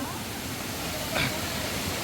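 The Savatsada waterfall in the jungle near Chiplun gives a steady, dense roaring rush that fills the whole short stretch, heard close and unbroken.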